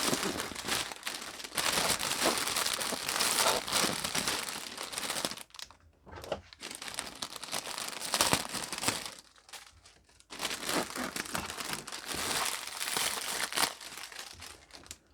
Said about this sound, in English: I'm going to start taping these sides around.